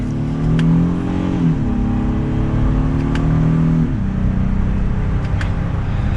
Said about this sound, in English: we will pop it into sport mode now, and we can use these paddle shifters. And from second gear, we'll give it some gas